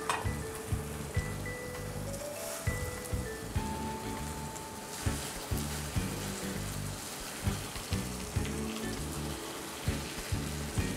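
A steak fries in a pan, a steady crackling sizzle with rhythmic popping bursts throughout, fairly quiet and heard alone without speech.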